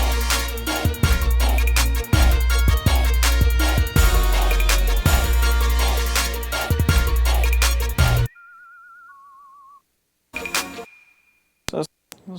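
A melodic whistle line inside a hip hop instrumental mix, playing alone in short wavering phrases after a dense beat with punchy drums and bass cuts out, then returning in brief bursts.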